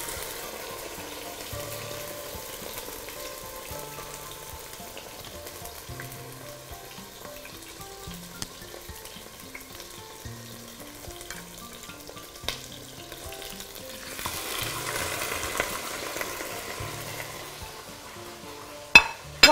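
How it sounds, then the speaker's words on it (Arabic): Meat sizzles steadily in a frying pan while a meat tray dish is prepared, a soft continuous crackle with occasional light clinks and a louder surge of sizzling toward the end. "على ما تتحمر اللحمة بتاعتنا"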